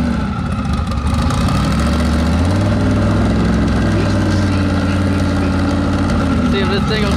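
A drag race car with a new clutch revs loud and close as it pulls away in first gear. The engine drone is thick and steady and its pitch climbs, with talk over it.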